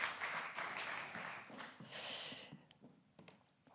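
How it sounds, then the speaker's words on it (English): A conference audience applauds a speaker after a talk on identity-based disinformation, a quiet, distant patter of clapping that thins out and fades over a few seconds. "Can I get one more huge round of applause for Nina Jankovic?"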